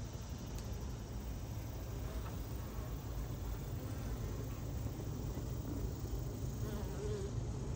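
A dense, steady drone of honey bees buzzing at an open, overcrowded hive during an inspection, continuous and close with no pauses.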